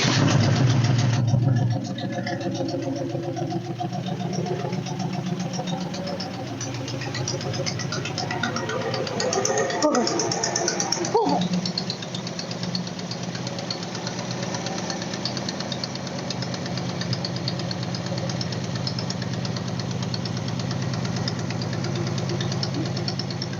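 An engine with an exhaust leak runs continuously with a rough, knocking, uneven idle, loud and close, with a brief clatter partway through.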